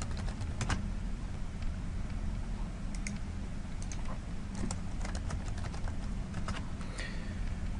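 Typing on a computer keyboard while entering a value in LTspice circuit software: scattered clusters of quick, faint key clicks over a steady background hum, with no voices.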